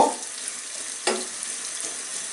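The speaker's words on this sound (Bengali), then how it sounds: "ভেজে নিব" Whole spices (cinnamon, cloves and cardamom, with bay leaves) fry in hot oil, giving a soft, steady sizzle with a couple of brief louder bursts as they are stirred, close and without talk.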